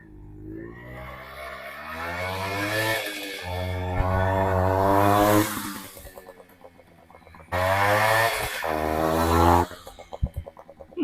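A two-stroke motorcycle engine, the kind found in bikes like the Yamaha RX100, revs hard in two long bursts, climbing and falling with a buzzy harmonic whine, then idles and sputters between and after the revs.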